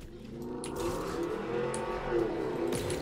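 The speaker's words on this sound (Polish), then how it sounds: "Sorry za motor w tle." A motorcycle passes outside near a roadside home, a moderately faint engine drone that swells and recedes in the background over a few seconds.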